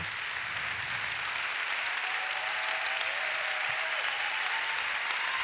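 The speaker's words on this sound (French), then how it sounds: "ce sont des applaudissements amplement mérités" A crowd at an events-industry awards ceremony applauds, a sustained, evenly dense clapping that stays loud and continuous from start to finish, with no break.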